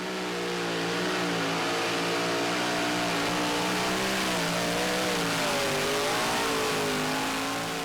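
Super modified pulling tractor, the Speedco Dirt Slinger, roars loudly and steadily throughout, its engine pitch wavering and climbing slightly as it pulls at a professional tractor pulling event.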